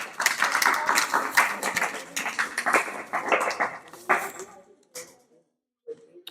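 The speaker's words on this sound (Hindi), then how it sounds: "नवीन गुर्जर के लिए 2 तालियां" Students in a tuition class clap in short bursts of sharp, overlapping claps, mixed with chatter from the room before everything falls quiet.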